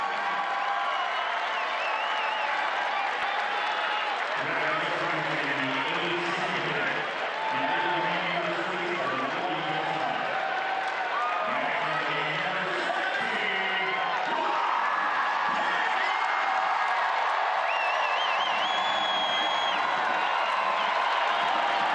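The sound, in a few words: home crowd cheering at a soccer match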